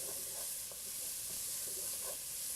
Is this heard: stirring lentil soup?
yes